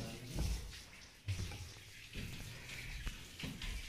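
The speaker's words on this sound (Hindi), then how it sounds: "और आंटी जी यहाँ पे ना भोलेनाथ को स्नान करा रही हैं।" Water is poured over a Shiva idol at a temple near Narwar Fort, quiet splashing and trickling in a few uneven bursts, faint and close, with no speech.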